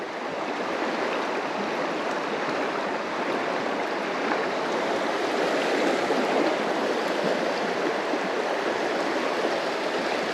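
The River Doon flows past in a steady, broad rush of water, close and continuous with no break, filling the scene without any voices.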